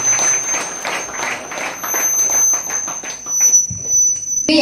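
Loud rhythmic clapping from a congregation at a Christian prayer centre service, a fast steady beat of hands close by, with a constant high electronic whine running through it.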